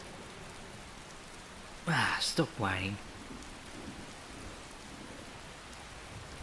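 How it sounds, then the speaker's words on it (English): Steady rain hisses across a cold morning in the video game Skyrim, with a short burst of a voice partway through; no clear thunder stands out. "The rain is still going."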